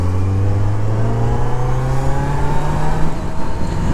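A Kawasaki Z900 motorcycle engine revs hard and loud up close, its pitch climbing steadily through a sustained rising whine with a deep, buzzy exhaust note.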